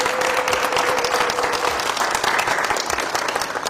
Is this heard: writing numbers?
no